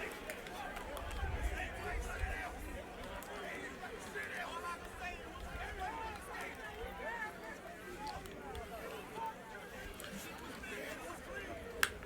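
A large crowd at a marching band battle keeps up a steady babble of chatter and cheering. It is distant and fairly faint, holds level for the whole stretch, and includes a few sharper shouts.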